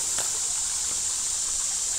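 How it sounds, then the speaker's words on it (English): A creek flows over sandstone with a steady, even hiss of running water, close and continuous, with no voices. "It's a beautiful creek though."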